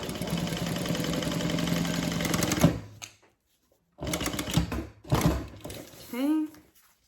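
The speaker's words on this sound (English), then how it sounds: "I'm just gonna go ahead and sew across the bottom, following that basting line I already made" A sewing machine stitches across the bottom of a Denver double zip bag in a fast, steady mechanical whir, then stops; short bursts of stitching follow, and a voice speaks briefly near the end.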